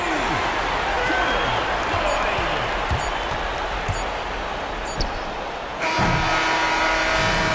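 Home arena crowd in NBA 2K25 cheers after a win in a Žalgiris Kaunas versus Maccabi Tel Aviv basketball game, a constant loud roar with scattered ball bounces, then the crowd swells louder near the end.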